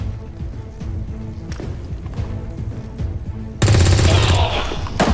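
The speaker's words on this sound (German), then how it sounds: "also muss ich schießen, okay." Gunfire in the turn-based strategy game XCOM 2: soft background thuds and footsteps give way to a sudden loud burst of rapid automatic shots that keeps hammering to the end.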